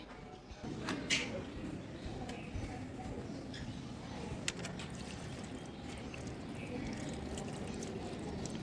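Water poured onto garden plants outdoors, a steady soft splashing wash running through the whole stretch at moderate distance, with faint birds and a brief thump near the start.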